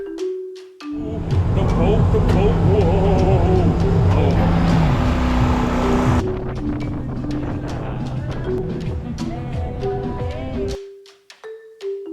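A tour boat engine in Medellín, Colombia rumbles loudly with wind buffeting the microphone, then fades into water and background noise near the end.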